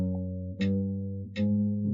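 Electric guitar sustaining a steady chord while two crisp metronome clicks land about three-quarters of a second apart, each marking a fresh quarter-note strum in a beginner finger workout at 80 bpm.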